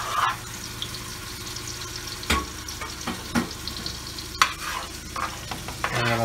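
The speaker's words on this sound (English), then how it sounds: "this masala is fried up properly" Masala for a homemade mutton curry frying in a pot while being stirred, a continuous sizzle broken by several sharp scrapes and clanks of the spoon against the pot.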